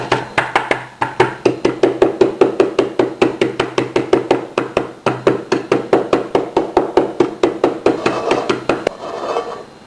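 Cattail rhizome being crushed in a coarse cast iron pan, a rapid steady series of sharp pounding knocks, close and loud, about four strikes per second.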